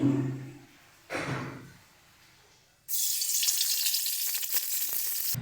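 Prawns dropping into hot mustard oil in a wok, with a couple of short muffled knocks and rustles before a sudden loud, sustained, crackling sizzle that keeps going to the end.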